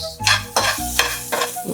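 Masala with coriander powder frying in a pan, close and loud, with four rhythmic bursts of stirring scrapes over a continuous sizzle.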